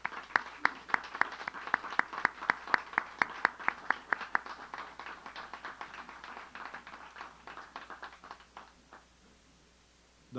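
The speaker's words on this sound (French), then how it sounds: "Vous pouvez les applaudir." Applause at a municipal council meeting in Mascouche for police officers begins as rhythmic unison clapping, loud and fairly close, then loosens into scattered claps and fades toward silence.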